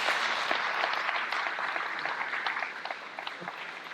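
Audience applause at an indoor talk in Montfermeil, a dense steady burst of clapping from a crowd that gradually thins and fades over a few seconds, with no voices.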